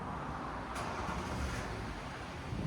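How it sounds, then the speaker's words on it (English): A BMW X5 with a 3.5L diesel and a straight-pipe muffler-delete exhaust idles or cruises as a low, steady, fairly quiet engine rumble with faint road noise and no voices. "BMW X5 diesel muffler delete"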